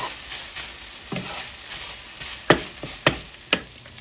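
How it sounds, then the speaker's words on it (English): A tablespoon of butter added to a pan for Southern sausage gravy, sizzling softly beneath sharp utensil scrapes and taps against the pan, several distinct clicks spaced across the latter half. "this is where you're going to add your tablespoon of butter"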